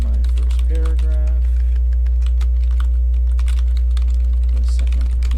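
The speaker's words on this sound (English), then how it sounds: "And then you can start typing." A computer keyboard clicks away as a Word document is typed up, the keystrokes coming in quick, uneven bursts over a steady low hum, with no speech.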